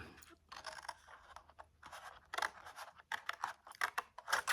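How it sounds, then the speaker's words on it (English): Scissors snipping through scored card stock while building a one-sheet paper box, a series of close, crisp crunchy cuts in uneven bursts that grow louder and quicker toward the end, with no talking. "I'm going to cut down to my third score line"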